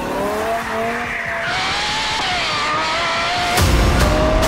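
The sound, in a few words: car engine revving with tire squeal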